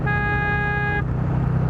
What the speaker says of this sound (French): Et pas n'importe quel klaxon hein, parce que du coup quand tu klaxonnes au moins celui-là tu l'entends.